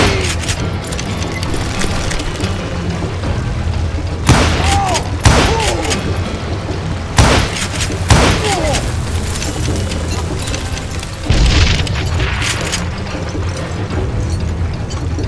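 Gunshots in the western video game Call of Juarez Gunslinger, several sharp loud reports spaced through a dense, busy game soundscape, with a few close heavy blasts standing out over constant background noise.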